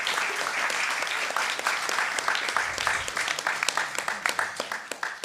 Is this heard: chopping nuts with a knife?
no